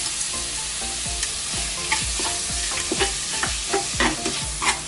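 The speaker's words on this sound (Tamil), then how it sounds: "தக்காளி பழம் கொஞ்சம் வதங்கிடட்டும்" Native tomatoes sautéing with salt in a hot pan, a continuous close sizzle broken by regular stirring scrapes about every half second.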